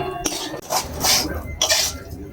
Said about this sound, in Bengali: নেড়ে চেড়ে নামিয়ে নেব